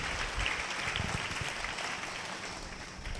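A church congregation claps loudly and steadily for several seconds, a dense continuous patter of many hands with no break.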